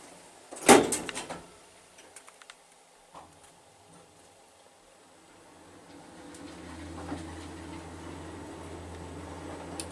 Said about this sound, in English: Door close works.